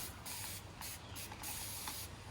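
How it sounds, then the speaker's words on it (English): Several short bursts of hissing water spray wetting a mould, close and steady, separated by brief pauses in a quiet room. "we'll just give it a quick spray to wet the mould"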